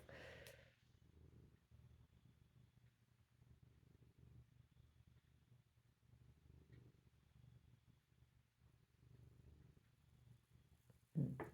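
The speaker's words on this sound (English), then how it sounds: "If you get headphones on, you can probably hear Frigid purring over here." A soft, low continuous purr rumbles steadily in gentle pulses, faint and close, with a brief louder bump at the very end.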